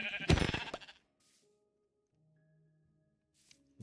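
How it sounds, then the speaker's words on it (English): Minecraft sheep bleating as it is punched in the video game: a loud, close burst of bleats at the start, then near silence with faint game tones, and another sound starting at the end. "Two-shotting a sheep."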